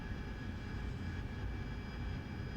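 The AV-8B Harrier's jet engine in a flight simulator drones as a steady, faint roar with a thin whine during a landing approach as power is eased back slightly, continuous and without talk.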